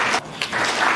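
Students fill a conference hall in Yamoussoukro with applause, a dense, loud wash of clapping that dips briefly and then swells again.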